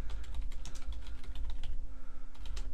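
Rapid typing on a computer keyboard in a quiet room, a fast irregular run of crisp, close key clicks over a faint steady electrical hum.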